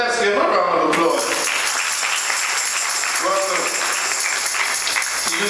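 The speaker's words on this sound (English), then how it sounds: "So let's give a round of applause." Church congregation applauding during a sermon, sustained clapping at moderate level under voices talking and calling out over it.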